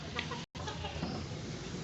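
Hens clucking in a backyard poultry setting kept for Aseel farming, a steady busy chatter of several birds close by with a brief silent gap partway through.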